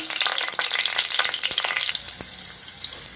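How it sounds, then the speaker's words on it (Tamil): Curry leaves and two green chillies hit hot oil with fennel seeds for a prawn thokku, bursting into a loud, dense crackling sizzle that spits and pops close by for a few seconds. "கருவேப்பிலை போடுறேன். ரெண்டு பச்சை மிளகாய் போடுறேன்."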